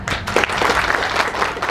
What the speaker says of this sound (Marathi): असं म्हटल्यानंतर आपल्या ज्या टाळ्या वाजल्या